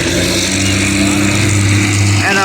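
A Cummins diesel truck engine at a western-style truck pull, a loud sustained rumbling rev with strong low tones, and a voice speaking briefly over it.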